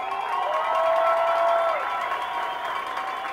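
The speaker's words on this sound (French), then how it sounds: "on peut applaudir les élites de Québec ce soir" Fans at a 2012 under-17 football final in Québec cheer and applaud in a loud, steady crowd roar, with whoops and a sustained shout rising above it for the first couple of seconds.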